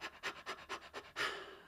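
A voice mimics a small puppy panting as part of a vocal exercise, giving about five rapid rhythmic breathy puffs up close and then a longer drawn-out breath at the end.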